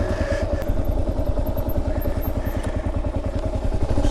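A Kawasaki KLR650 single-cylinder motorcycle engine running just after starting, a loud close rhythmic thumping idle with steady pulses throughout.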